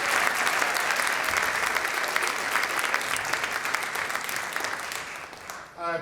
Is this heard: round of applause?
yes